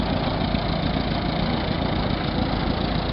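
A 1950 small family tractor engine idling at a steam era show: a steady, rough low rumble with continuous chugging, close and fairly loud, no voices.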